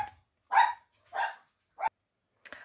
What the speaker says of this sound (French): elle me fait faire des sursauts quand elle aboie